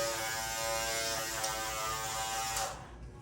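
Andis Master cordless electric hair clippers buzz steadily up close, a loud mechanical hum that cuts off near the end and leaves a brief faint tail.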